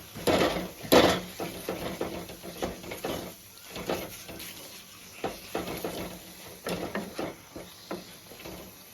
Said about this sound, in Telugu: సాల్ట్ వేసుకున్నాం కాబట్టి బాగా కలుపుకోవాలండి